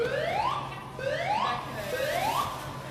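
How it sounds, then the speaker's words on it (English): An Edwards Voice Evac fire alarm system sounds its tone in a building: loud rising whoop sweeps repeat about every second, steady and close, with no speech. "A fire alarm has been activated in the building"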